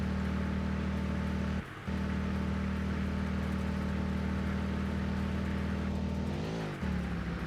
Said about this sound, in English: Come on, car. You got to be able to go faster than this.